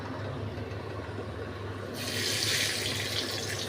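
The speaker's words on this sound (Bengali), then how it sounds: "এই হিং রসুন আর সর্ষের তেল আর 5 ফোড়নের এটা ঢেলে দিলাম।" Hot tempering of asafoetida, garlic and mustard oil with five-spice seeds poured into a pan, a steady low hum suddenly joined by a loud, bright hissing rush of oil hitting the food that keeps going.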